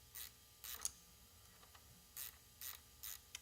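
A ratchet works a bolt loose on a motorcycle's wet primary cover, heard as several short, quiet bursts of clicking in an uneven rhythm, each separated by brief pauses.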